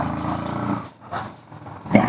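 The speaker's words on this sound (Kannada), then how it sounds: "ನಾಯಿಗಳು ಬಹು ಬಹು ಬಹು ಬಹು ಅಂತವೆ." Dogs by the Kanakapura highway growl and bark in short close bursts, a low snarl breaking into a sharp bark, with a brief lull between.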